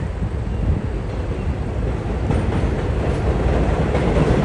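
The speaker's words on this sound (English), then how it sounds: "I don't want to be near the train though. It's too loud." A train rumbles past nearby in Astoria, Queens, with a loud, continuous roar that swells slightly toward the end, with some wind noise and no talking.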